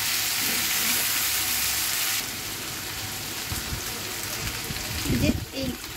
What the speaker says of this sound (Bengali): সবজিটাকে একটু ভেজে তারপর পাঁচফোড়নটা দিয়ে দিব।